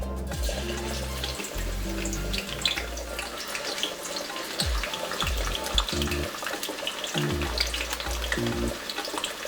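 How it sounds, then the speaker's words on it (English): Onion fries in hot oil for a Ghanaian spinach stew, giving a continuous crackling sizzle throughout, with a few low thuds and clunks of kitchen handling beneath it. "I think our oil is hot, so we're gonna add the onion."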